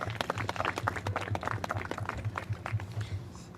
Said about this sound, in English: Give them a round of applause for our round two.